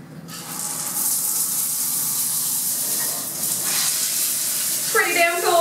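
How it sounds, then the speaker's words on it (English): A hotel bathroom shower with two shower heads runs steadily, a broad hiss of spraying water filling the room, close and loud, with a brief splash or voice near the end. "Not happy with your shower pressure? You have two heads to choose from."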